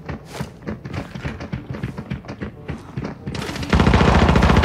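Rapid gunfire rattles in a mobile shooter game, with loud repeated shots in a fast irregular rhythm that build into a dense, sustained burst at the end, close and dominant with no voices.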